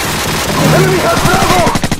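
Gunfire in Call of Duty 4: a loud, close burst of rapid automatic shots fills the last half-second, with a voice speaking just before it.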